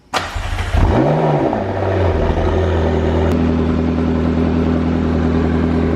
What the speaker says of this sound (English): it's got that McLaren sound